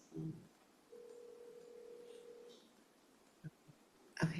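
Phone dialing tones heard over a board meeting's speaker line: a short burst, then a steady tone of about a second and a half, followed by a couple of brief clicks and a louder noise at the end.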